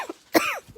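A single short cough, close and fairly faint, heard alone in a quiet room.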